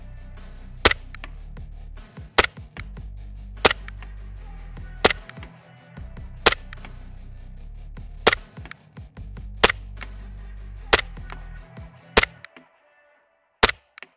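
An Umarex Glock 17 Gen 5 air pistol fires about ten sharp, close snapping shots at a steady, slightly uneven pace over a quiet background, ending after a short pause with one last shot.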